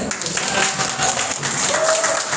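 Audience applause at a church youth retreat held indoors, a steady wash of clapping that fills the clip, with a few faint voices and whistles mixed in.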